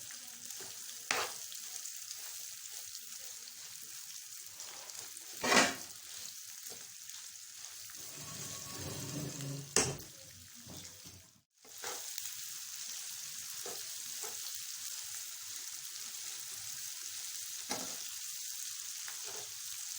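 Lasoda pickle with green chillies and garlic fries in a pan with a steady, quiet sizzle, broken by a few sharper stirring scrapes and brief pauses.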